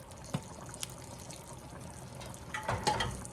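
Hot water poured into cornbread mix to make a soupy batter, soft trickling and splashing with a few small plops, quiet and close, growing busier toward the end.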